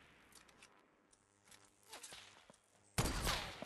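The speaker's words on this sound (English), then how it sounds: "I'm shooting my own stairs now." Gunfire in Fortnite as a player shoots at their own built stairs: scattered light impacts and clicks, then a loud dense burst of shots near the end.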